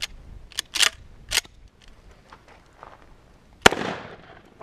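A Mossberg 590A1 AOW shotgun fires several sharp, booming shots at a 9-yard target, three in quick succession and another after a pause with a ringing decay, heard close outdoors without speech.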